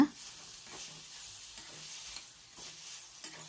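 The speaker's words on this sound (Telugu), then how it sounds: "కరివేపాకు కొత్తిమీర వేసుకొని ఐదు నిమిషాల పాటు కొంచెం ఫ్రై చేసుకున్న తర్వాత" Curry leaves and coriander fry softly and closely in a pan with a few light stirring scrapes, fairly quiet and continuous.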